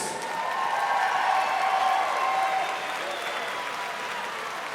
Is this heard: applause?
yes